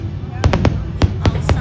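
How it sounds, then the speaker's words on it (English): Fireworks bursting at Disney's California Adventure Park during the Festival of the Holidays, a run of sharp booms spaced about a quarter second apart over a crowd murmur. "Also happened to be here right before the fireworks started."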